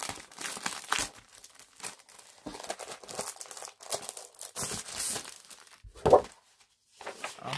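Scrapbooking papers are handled up close with crisp crinkles, rustles and brief crumpling bursts in an irregular rhythm, separated by short quiet gaps.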